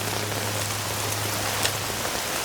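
Heavy rain in an animated cartoon pours down in a dense, steady hiss, drumming on a surface close by with no voices.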